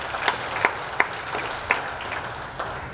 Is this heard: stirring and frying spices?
no